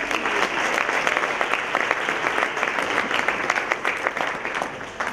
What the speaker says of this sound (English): how about we have you stand up and give you a little round of applause?